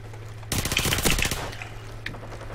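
A rapid burst of automatic gunfire from a weapon in Call of Duty 4 on the Pipeline map, a loud, close rattle of shots lasting about a second, followed by a fainter trailing shot with no talking.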